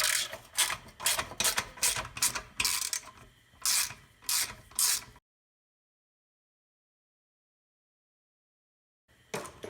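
A ratchet wrench with a 10 mm socket loosens the cover bolts on a failed Briggs & Stratton engine from an MTD tiller. Bursts of rapid ratcheting clicks repeat close up for about five seconds, then silence, with a brief burst returning at the end.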